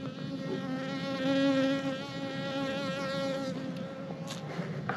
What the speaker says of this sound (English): Just by breaking that, it excited the bees to come up.